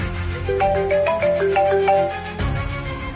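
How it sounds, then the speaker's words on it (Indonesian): A telephone ringtone plays a repeating melodic pattern of bright electronic notes, loud and close, cycling over about two seconds before breaking off, with no one speaking. "Telepon."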